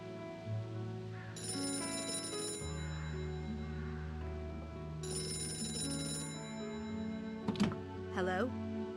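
Telephone ringing inside the Gray Matter video game, with two long electronic ring bursts sounding over a steady low ambient music bed, followed by brief scuffling noises.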